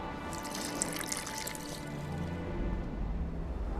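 Water trickles and splashes as it is poured into a mixture of quicklime in The Witcher 2, a steady liquid pour with small drips in the foreground.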